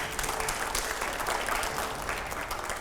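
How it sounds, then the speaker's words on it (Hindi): A studio audience at a Hindi political debate show claps steadily and loudly throughout, a dense, even wash of applause with no voices on top. "जोरदार तालियां बजाइए एक बार।"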